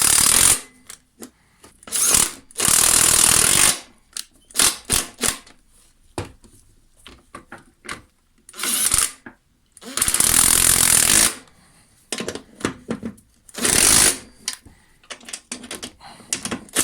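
Bursts from an impact tool drive the spindle bolts tight on a lawn mower deck, about six loud rattling bursts of a second or so each, separated by softer handling clicks and quiet gaps.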